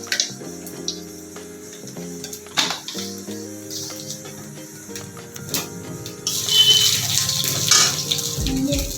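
Bay leaves, dried red chillies and a pinch of panch phoron sizzling in hot oil in a wok, a steady close frying hiss that swells louder toward the end, with a few light clinks.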